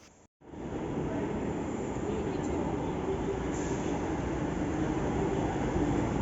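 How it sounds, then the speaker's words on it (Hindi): Delhi metro train running on the line, a steady loud rumbling roar of wheels and carriage noise that starts after a brief gap and continues evenly throughout. "लकीली मेट्रो भी हम लोग को तुरंत मिल गई"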